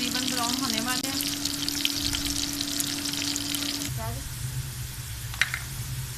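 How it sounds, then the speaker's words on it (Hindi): Onions fry in about one and a half cups of hot oil until browning, a steady close sizzle with stirring and an occasional clink, while a voice hums or talks along. "अब इसमें डाल दिया हमने प्याज। प्याज हमारे तकरीबन ब्राउन होने वाले हैं।"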